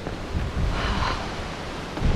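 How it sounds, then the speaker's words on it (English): Steady, roaring wind with rain buffets the microphone on the Heysen Trail, alongside a broad rushing noise, constant and loud throughout with no voices. "Rain and strong wind."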